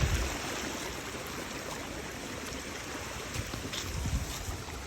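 Stream water flowing through a hand-built channel with small gates in a permaculture garden, heard as a steady, full rushing wash that stays even throughout without pause or voices.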